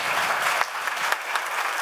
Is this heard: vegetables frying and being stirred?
no